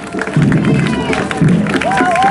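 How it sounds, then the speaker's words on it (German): A crowd cheers and claps for swimmers climbing out of the water at an open-water event, a loud, dense roar of applause and shouts that carries on steadily throughout. "Das ist euer Applaus."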